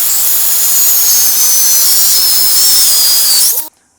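A modified cordless battery miter saw with a raised bed, screwed-on boards and an old blade, cutting wood for a hot tub build: a loud, steady high-pitched whine lasting several seconds, then cutting off abruptly.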